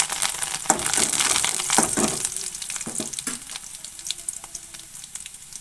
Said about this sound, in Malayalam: ഒരു ചട്ടിയൊക്കെ വെച്ച് കുറച്ച് വെളിച്ചെണ്ണ ഒഴിച്ച് ചെറിയ ഉള്ളിയൊക്കെ ഇട്ട് മൂപ്പാവാനായിട്ടുണ്ട്